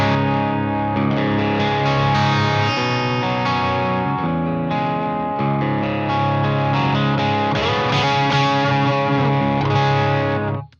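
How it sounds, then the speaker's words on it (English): A Fender Ultra II Telecaster electric guitar plays through effects with its S1 switch splitting the pickups, giving sustained distorted, chorused chords that ring steadily and loud for about ten seconds before cutting off. "So let's hear the S1 switch. It splits the pickups down in this guitar"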